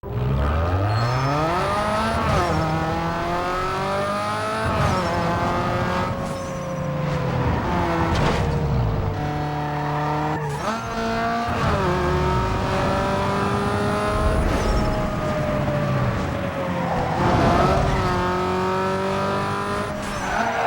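Fully upgraded Nissan 240SX in Need for Speed Underground 2 revving hard through repeated gear shifts, a loud racing engine note climbing and dropping with occasional tire squeal, steady throughout without voices.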